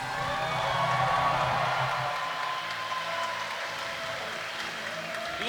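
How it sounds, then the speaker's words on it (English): Applause from spectators at the women's STIHL Timbersports US Championships spreads across a large venue, a diffuse wash of clapping and crowd noise at moderate distance, with music and tonal sounds blended underneath. "Massive round of applause."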